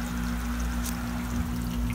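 Water pours steadily into a container, filling it from the bottom, a continuous close splashing rush over a low pump-like hum.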